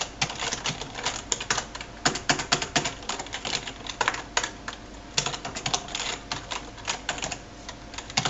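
Continuous rapid typing on a computer keyboard, with dense clattering keystrokes close up and steady throughout, no voice heard.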